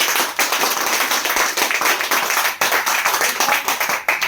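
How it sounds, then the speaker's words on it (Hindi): Loud, dense clapping from a seminar crowd in Pune, many hands beating fast and close together in a continuous burst with slight surges, and no talk over it. "एक बार जोरदार ताली बजाइए।"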